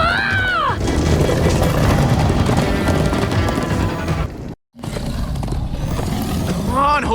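Horses gallop in Minecraft Story Mode, a loud, steady drumming of hooves that runs almost without break and cuts out for a moment near the end, with shouting voices over the pounding.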